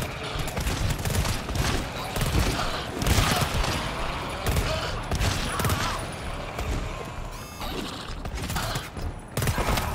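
Gunfire in GTFO, a loud, dense fusillade of rapid shots and bursts rattling on throughout, mixed with mechanical clanks and creaks, with players' voices occasionally underneath.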